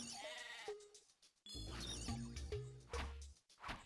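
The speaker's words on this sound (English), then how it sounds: "There's sheep down there." Sheep in the Game Boy Advance game Tak and the Power of Juju bleat in a few loud, wavering calls layered over game sounds.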